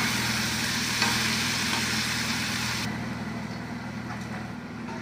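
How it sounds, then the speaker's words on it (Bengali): Pointed gourd (potol) pieces fry in a pan with a steady, dense sizzle close by, dropping slightly in loudness partway through and continuing evenly to the end. "পটলটা ভাজা হয়ে যাচ্ছে আমার"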